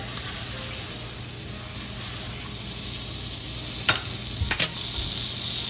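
Beef sears in butter in a preheated pan with a steady, close sizzle and crackle, and two sharp clanks of a utensil near the end.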